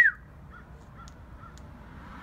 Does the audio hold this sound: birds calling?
yes